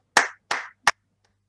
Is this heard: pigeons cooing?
no